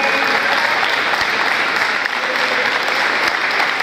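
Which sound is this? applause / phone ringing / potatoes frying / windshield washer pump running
applause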